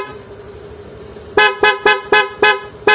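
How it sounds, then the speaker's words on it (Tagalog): Stock car horn blaring loudly in a rapid burst of six short honks after a quiet idling start, near and piercing, with no voices. "Passing loud horn."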